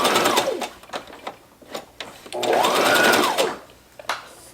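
A sewing machine stitches a reusable fabric face mask with a pocket for a disposable filter, running in short forward and back bursts with a longer steady run in the middle, close and loud.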